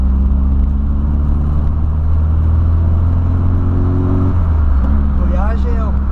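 A turbocharged Volkswagen Voyage with an AP engine revs in a steady, loud, close drone that holds for several seconds and then changes pitch near the end, with talk over it.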